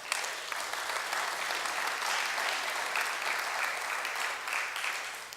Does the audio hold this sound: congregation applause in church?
yes